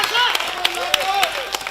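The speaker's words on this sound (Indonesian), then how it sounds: "Marilah kita berikan tepuk tangan yang paling meriah kepada kedua paslon yang ada di sini." A studio audience at a 2024 regional election debate claps for the two candidate pairs, a scattered patter of hands under a presenter's continuing speech.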